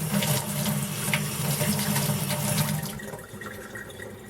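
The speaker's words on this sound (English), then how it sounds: "Uh-oh, hot water's leaking." Hot water rushing loudly from a leaking Delta faucet valve, a steady hissing gush that cuts off abruptly partway through, leaving a faint trickle and residual room hum.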